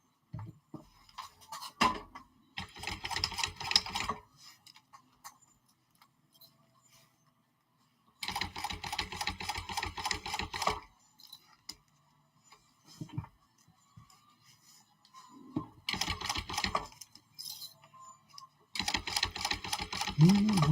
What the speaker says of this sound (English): So I'm just top stitching along.